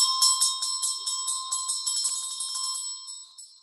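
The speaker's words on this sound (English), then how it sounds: "So here we have to do a bell." A small bell rung during a Tibetan chant lesson, a rapid run of bright, close metallic strikes that ring on and slowly fade out, with no voices over it.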